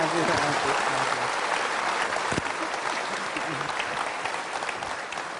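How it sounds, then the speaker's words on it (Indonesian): Studio audience applause at a television talk show, a steady dense wash of clapping that holds for several seconds and fades slightly at the end, with faint voices beneath. "Kita tepuk tangan untuk sarung ajaib."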